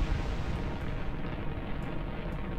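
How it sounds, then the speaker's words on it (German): Rocket engines in Kerbal Space Program roar and crackle at liftoff as a dense, continuous rumbling hiss of even loudness with no voices. "Es knallt und knistert hier."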